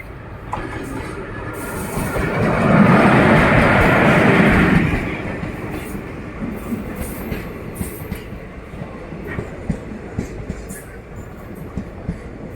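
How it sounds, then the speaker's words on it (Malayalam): The Murudeshwar–Bangalore Express rolls into Udupi station, a loud rumbling swell that peaks and then settles into steady wheel clatter and rhythmic clicks as the train slows along the platform. "മുരുടേശ്വര ബാംഗ്ലൂർ എക്സ്പ്രസ് ആണ് വരുന്നത്"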